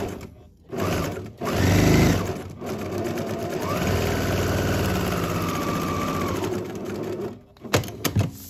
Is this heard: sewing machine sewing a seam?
yes